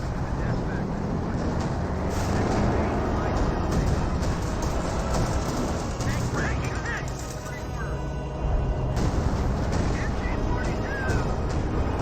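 Battle din from Company of Heroes 2 with artillery and tank fire, a dense continuous rumble punctuated by repeated heavy booms and crashes, loud and sustained throughout.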